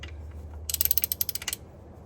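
Ratchet wrench clicking in a quick run of about a dozen sharp, close clicks while tightening a fastener on a BMW E36 during cooling system work, with a low hum underneath.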